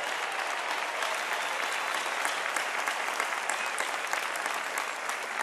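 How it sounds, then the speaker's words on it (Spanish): A church congregation at a youth gathering Mass applauds seminarians, a steady, even wash of many hands clapping throughout, sustained and unbroken with no voices on top. "Un aplauso para ellos, hombre, que están siguiendo al Señor."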